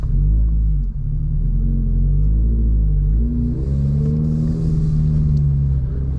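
A 2024 Subaru BRZ Limited engine revs while driving, a loud, steady low drone whose pitch climbs and falls through the run, with the revs hanging briefly before easing off.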